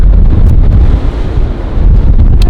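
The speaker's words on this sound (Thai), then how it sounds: "ลมแรงมากค่ะ" Strong storm wind roars and buffets the microphone at a UK home, a loud, continuous low rumble with gusty surges and no talking.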